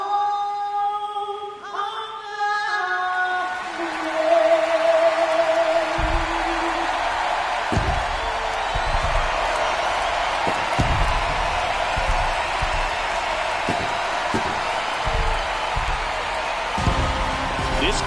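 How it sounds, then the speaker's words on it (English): A World Series crowd at Busch Stadium in St. Louis roars in a dense, sustained wash of cheering with scattered sharp bursts, following a brief musical opening. "This crowd is ready as we get set for the World Series."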